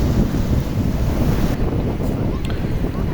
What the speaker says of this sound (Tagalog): nandito tayo sa tabing dagat